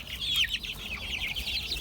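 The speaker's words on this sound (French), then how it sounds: "Il y a des Brahmas perdrix maillé doré." Brahma chickens, a mix of hens and roosters of several colour varieties, cluck in quick, bright, overlapping calls close by, with a low rumble of background noise.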